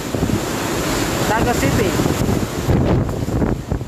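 Strong wind from Typhoon Goni (Rolly) buffets the microphone in Naga City in continuous roaring gusts, loud and close, with a voice speaking briefly over the noise.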